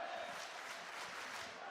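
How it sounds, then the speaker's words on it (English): A crowd at a Call of Duty League esports match, Optic Texas versus Minnesota Rokkr, cheering and roaring in a steady, dense wash of distant noise. "Crowd just getting more and more fired up by the moment"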